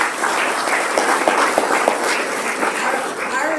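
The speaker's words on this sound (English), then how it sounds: "Let's give them a round of applause." A crowd at a county community coffee gathering gives a round of applause for the county team. The clapping is steady and fairly loud, and a few murmuring voices sit under it.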